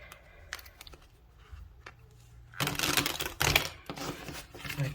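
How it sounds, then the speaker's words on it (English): Cards of the Astro Alignment Oracle deck are shuffled in a burst of dense, rapid riffling and flicking close up, preceded by a few soft isolated taps and quiet handling. "One more shuffle."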